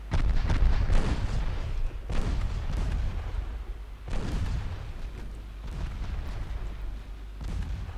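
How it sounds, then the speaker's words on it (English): Heavy naval guns from warships in Ultimate Admiral: Dreadnoughts boom repeatedly in a steady barrage, deep rumbling blasts overlapping with roughly two-second spacing, loud and close with no pauses between volleys. "The guns are working though."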